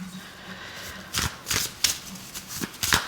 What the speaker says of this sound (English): I am going to shuffle these because I do pull reversals for these cards